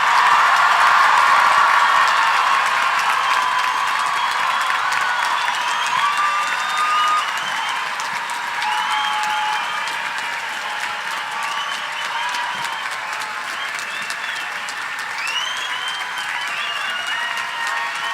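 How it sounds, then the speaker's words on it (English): Sustained applause and cheering from a commencement crowd at the Reed College 2019 graduation, greeting the graduating class; dense steady clapping with scattered whoops, loud at first and easing slightly while it continues. "I now invite your applause for the class of"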